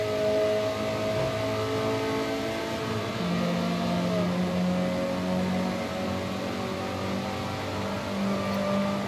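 A Golf GTI engine accelerates in a Forza Motorsport race at Road America, a steady, fairly loud droning whine that climbs in pitch midway, continuous and without talk.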